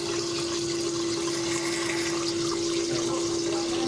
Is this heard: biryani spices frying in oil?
no